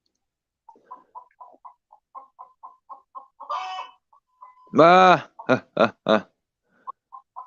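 Free-range chickens on a farm cluck in a steady run of short, soft notes, broken by one loud drawn-out cackle and a few sharp squawks up close, with a brief voice at the start.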